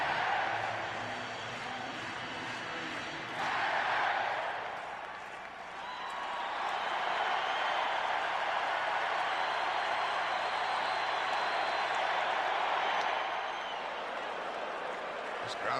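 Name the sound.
baseball stadium crowd cheering at World Series game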